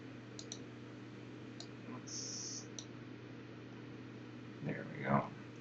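Soft, faint computer mouse clicks, a few brief separate taps spaced irregularly while a profiling tool is used, with a low steady hum under them and no talking.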